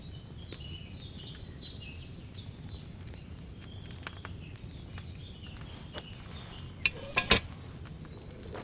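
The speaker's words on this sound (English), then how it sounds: "Hear that bubbling? It's boiling." Wine heats over a flame in a cauldron in Kingdom Come Deliverance 2, giving a quiet, steady bubbling simmer beneath chirping birds, with a few sharp clinks and knocks near the end.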